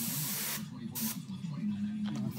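Airbrush spraying orange candy paint in quick freehand dagger strokes, short hissing bursts over a steady low background hum, fairly quiet.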